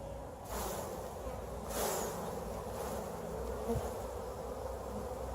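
Honey bees buzz steadily from an open hive, a close, continuous drone with brief swells in intensity and no talking.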